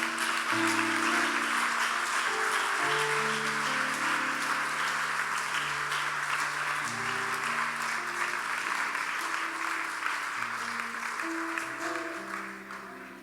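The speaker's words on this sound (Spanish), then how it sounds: "Dale fuerte el aplauso al Señor" A church congregation claps hard in praise to the Lord, a sustained dense roar of applause over held keyboard or organ chords. It stays strong and continuous before easing slightly at the end.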